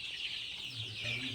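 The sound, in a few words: chickens clucking on a country chicken farm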